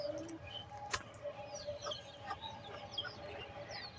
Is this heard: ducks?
yes